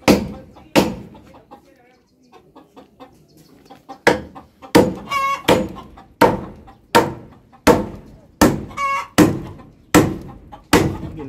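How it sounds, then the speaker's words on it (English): Chickens cluck on a small chicken farm with about 300 layers, close by with repeated sharp calls and thumps in a fairly regular rhythm, a person's voice faintly underneath. "I'm going to show you the other chickens that we have"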